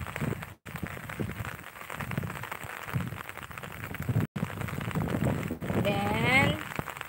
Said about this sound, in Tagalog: ayan, maulan na hapon.